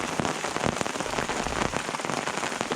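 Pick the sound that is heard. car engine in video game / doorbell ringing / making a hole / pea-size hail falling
pea-size hail falling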